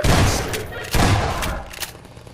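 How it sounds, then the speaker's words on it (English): Shotgun blasts in the video game Half-Life 2, three loud booming shots a second or so apart with faint voice around them. "I haven't used a shotgun in a good while."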